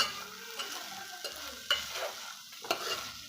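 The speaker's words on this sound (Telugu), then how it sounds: "ఈ క్యాప్సికమ్ ముక్కలు అనేది మనకు కలర్ చేంజ్ అయ్యేంత వరకు బాగా నూనెలోనే ఫ్రై చేసుకోవాలి" Capsicum pieces frying in oil with a little salt, giving a soft steady sizzle with a few sharp scraping stirs from a spoon, close and fairly quiet, with no talking.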